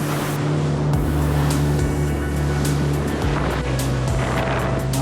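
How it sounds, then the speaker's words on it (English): Big ocean breakers crash and roll at an exposed Australian coastal fishing spot during an incoming tide, a steady loud wash of surf with a low rumble and no talking. "Big breakers over there, look at them."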